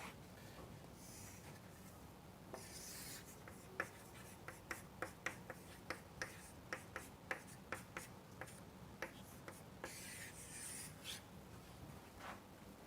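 Pen or chalk strokes scratching and tapping on a writing surface, a steady run of short rubbing marks and light clicks, close and fairly quiet with no talking.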